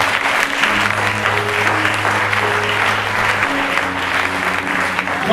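A church congregation claps steadily in sustained applause, a dense wash of hands over a low tonal hum from instruments, continuous and fairly loud throughout with no break.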